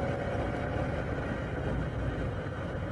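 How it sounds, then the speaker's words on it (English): Car engine running while driving, a steady low hum and road rumble, moderately quiet and unchanging, with no talk over it. "listen to my engine."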